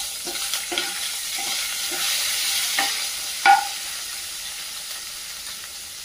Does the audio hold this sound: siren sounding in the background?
no